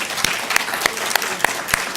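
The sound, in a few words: church congregation applauding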